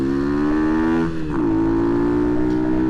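A Honda C90 motorcycle with a 170cc engine and a 28mm carburettor revs loudly and steadily on a run, its drone dipping briefly in pitch midway before settling back to a constant hum.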